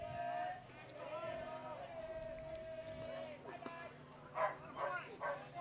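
A dog barks and yips at a baseball field during a game, a few sharp yelps against steady background noise, while people talk nearby.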